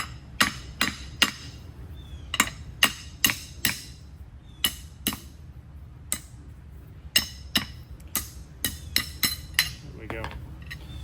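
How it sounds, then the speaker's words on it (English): A hammer strikes a hardened metal ring on a K24 engine part with a supercharger, about twenty sharp metallic clinks arriving in irregular bursts with brief pauses between them. "I'm hoping I can just break this ring by hitting it both sides."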